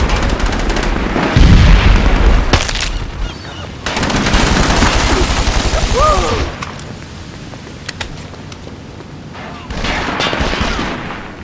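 Gunfire and explosions from a SOCOM 4 multiplayer battle, with loud bursts of automatic fire in several clusters, a deep boom, and sparse distant shots filling the gaps between volleys.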